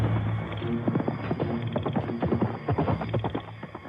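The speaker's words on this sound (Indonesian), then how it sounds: "munculnya Panji Semirang dan pasukan berkudanya yang datang membantu penyerbuan Ksatria Kelana" Horses of a mounted troop trot past in a dramatized royal-court scene, with rapid, overlapping hoofbeats at moderate distance and a brief whinny early on. No talk is heard.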